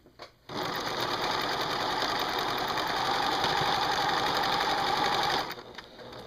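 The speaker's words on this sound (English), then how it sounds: "we're going to sew our 1/4 inch there" A sewing machine runs steadily for about five seconds, stitching a quarter-inch quilt seam, close and fairly loud with a brief start and stop at either end.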